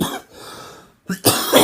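A person with cystic fibrosis coughs close to the microphone: a short cough, a quiet strained breath, then a heavier double cough, harsh and chesty.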